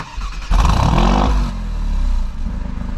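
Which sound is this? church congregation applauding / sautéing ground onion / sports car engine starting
sports car engine starting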